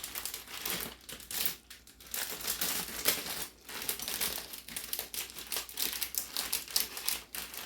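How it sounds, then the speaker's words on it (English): Half a bag of egg noodles crinkles and rustles loudly as it is poured into a Dutch oven, a continuous close crackling of plastic packaging with irregular bursts. "we're going to dump a half a bag into the Dutch oven"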